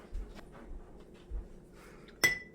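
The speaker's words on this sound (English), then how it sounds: "And I have to grab my spoon." A spoon knocks against a jar during homemade yeast making, with a few faint taps and then one sharp, bright clink near the end, close by and alone.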